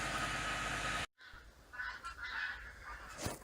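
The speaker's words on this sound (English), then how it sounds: "could you hear the birds migrating back to Europe? They make quite a fuss about it" Faint honking of migrating birds, a few scattered calls drifting from a distance after a loud steady noise cuts off abruptly.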